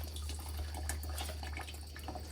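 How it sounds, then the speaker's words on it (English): Water sloshing and splashing inside a rusted motorcycle gas tank from a Sportster during rinsing, a steady close wash of liquid with a low hum underneath. "just start cleaning it out with pure water"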